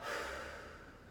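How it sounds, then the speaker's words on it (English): One deep, audible breath is drawn and slowly released during a calm yoga flow, close and soft, with no speech. "Take big breaths."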